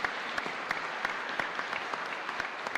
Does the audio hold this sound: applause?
yes